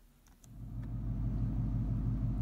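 A 2015 Ford Mustang GT S550 V8 with a Lund tune idles with a deep, low, throbbing rumble that swells slightly after the first half second and then holds steady and fairly close, with no talking.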